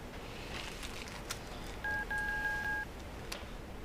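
A landline telephone being dialed in a Hong Kong crime drama, a short run of several evenly spaced keypad tones in the middle, fairly clear over a quiet room background.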